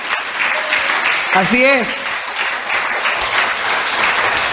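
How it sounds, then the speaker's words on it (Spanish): A church congregation applauds steadily through a sermon, sustained clapping filling the room while a preacher's voice speaks briefly over it. "Dale un aplauso al Señor."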